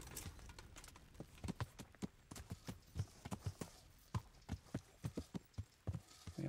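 Horse hooves clip-clop at a walking pace in the video game Kingdom Come, a steady run of close, distinct hoof strikes over quiet ambience with no talking.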